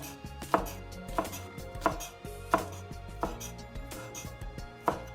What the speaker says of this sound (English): And then we're just going to kind of chop it up.